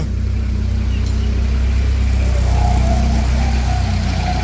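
A 2011 Moffett M55 truck-mounted forklift engine runs steadily while the machine drives, a constant mid-pitched drone with a low rumble and no talk over it.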